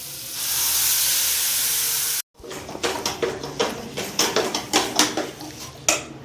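Palm kheer dropped into melted butter in a pan: a loud steady hiss of sizzling, then a cut to quieter frying crackle with repeated sharp clinks and scrapes of a utensil against the pan.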